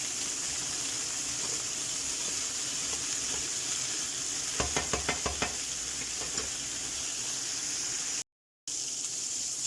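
Pork and noodle stew sizzles and fries steadily in a single pan, with a short run of rapid scraping stirs midway, close and fairly loud throughout.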